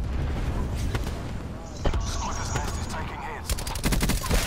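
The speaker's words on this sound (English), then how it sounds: "I'm having a sniper battle with a dude across" Sniper rifle gunfire in a video game firefight, with several sharp, distant shots cracking through a busy battle soundscape, including a quick cluster of rapid reports near the end.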